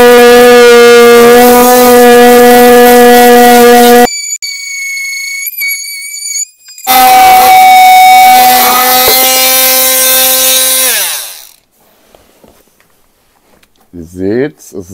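An Einhell Varrito cordless multitool cutting wood from underneath, its high whining oscillating buzz running loud and steady for several seconds, stopping, then starting again, with a few scrapes afterward.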